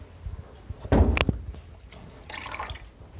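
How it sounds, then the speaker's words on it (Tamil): Water splashes and drips as a wet cloth is wrung out by hand while cleaning an air conditioner filter, a short burst of running liquid followed by softer trickling, close and alone. "புழிஞ்சிக்கோங்க."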